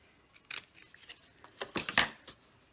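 Scissors snipping through cereal box cardboard, a few crisp close cuts in short bursts with brief gaps between them.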